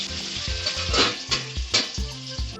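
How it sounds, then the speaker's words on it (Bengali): Pieces of lailentika fish frying in oil for a light curry with arum root, a constant crackling sizzle punctuated by several louder pops and spatters. "মাছগুলো ভাজা হয়ে গেছে,"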